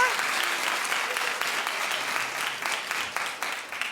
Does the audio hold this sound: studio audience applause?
yes